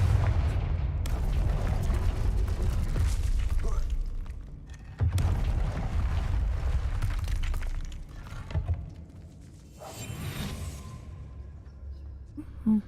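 Confringo fire spells in Hogwarts Legacy burst as sharp, shattering booms, two big blasts several seconds apart amid game noise, with a voice talking in between.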